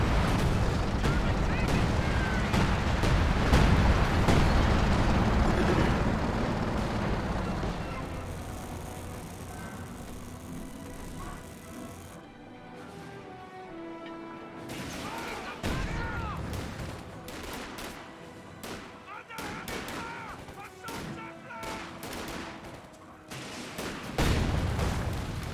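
Gunfire and artillery in Company of Heroes rattle and boom through a busy battle, strongest early and then thinning into scattered shots and blasts, with a voice talking over parts of it.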